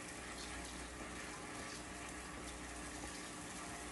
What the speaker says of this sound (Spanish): le voy a botar así el agua, ya van a ver, miren cuánta agua sale.